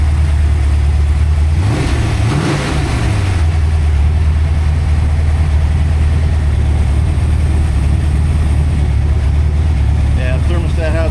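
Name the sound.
347 stroker engine starting and revving for the first time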